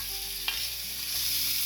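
Onions, tomatoes, banana peppers and curry leaves fry in a pan for devilled chicken, giving a steady close sizzle with a brief clink of a utensil.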